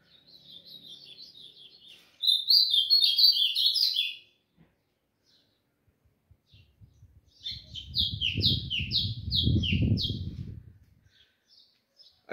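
Pet golinha and azulão songbirds sunbathing outdoors sing in quick, bright chirping bursts, loud and close, with a quiet gap and some low rumbling handling noise under the later phrases.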